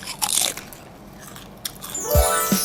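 Someone bites into a crunchy, crispy fried egg, giving close, sharp crunches and brittle crackling with a few quieter chewing sounds in between.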